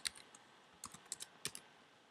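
Light clicks of typing on a computer keyboard come in small irregular clusters, quiet and close, with no voices.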